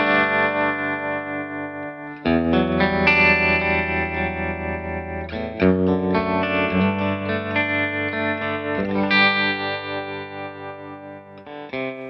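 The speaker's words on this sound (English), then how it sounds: "And of course, you've got valve-driven spring reverb and tremolo." Electric guitar played through a Victory V40 Deluxe valve amp with valve-driven spring reverb and tremolo, sustained chords ringing with a wobbling, reverberant tail, loud and close with no talking.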